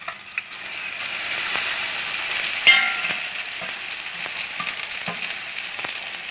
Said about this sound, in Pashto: پیاز د سره کېدو نه پس موږ دې ته دا بنډۍ ور اچوو.